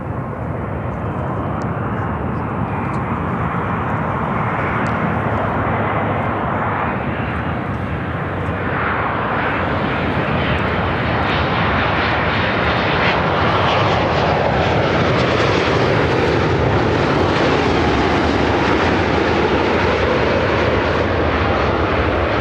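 A United airliner departs Chicago O'Hare, its jet engine roar loud and steady across the whole stretch, the broadband rush swelling and shifting in pitch as it climbs away.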